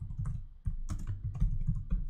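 A computer keyboard clicks in quick, light keystrokes over a low background hum, with a few brief pauses between short runs of typing.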